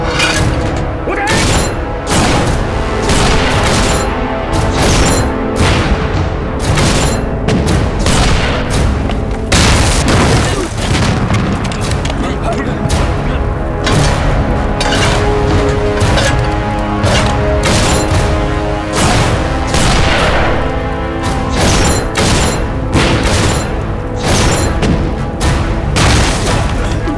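Constant rapid gunfire and heavy booming explosions from a Chinese wartime battle film, a dense, loud barrage that continues without pause.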